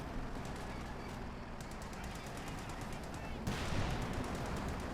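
Soviet infantry rifle and machine-gun fire in Company of Heroes 2, a steady mid-distance crackle of shots layered with battle ambience, intensifying toward the end, with a voice talking over it.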